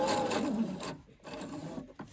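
A sewing machine runs stitches across the end of a bag handle with the needle stopped down between passes, a steady mechanical whir that pauses briefly and resumes, close and alone.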